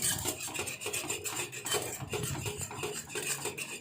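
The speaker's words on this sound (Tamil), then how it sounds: "ஒரு சேர நல்லா மிக்ஸ் பண்ணி விட்டுட்டு விடாமல் கிளறிட்டே இருக்கணும்" A utensil stirs a thick kambu (pearl millet) batter in a pan, giving a quiet, continuous scraping and rasping with a steady back-and-forth rhythm and no voices.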